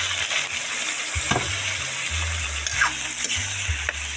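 Squid (pusit, lumayagan) sizzling in a pan while cooking for adobo, a steady loud frying hiss with intermittent clinks and stirring bumps throughout, no voices.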